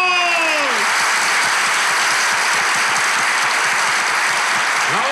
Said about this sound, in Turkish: harikulade bir kalabalıkla, alkışlarla başlıyor